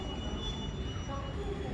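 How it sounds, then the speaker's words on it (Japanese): A Kintetsu limited express Hinotori train pulls into a station platform with a steady low rumble, a thin high wheel squeal, and a faint voice under the noise. "名古屋駅特急火の鳥が入線してきました。"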